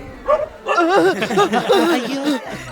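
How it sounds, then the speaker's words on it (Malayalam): A dog in a Malayalam-dubbed Singam 2 action-comedy scene gives a string of whining, yelping barks that rise and fall in pitch, loud and close. "സൂസേ, നിന്റെ നായ്ക്ക് കാലത്തോട്ട് നല്ല വിശപ്പാണെന്ന് തോന്നല്ലോ."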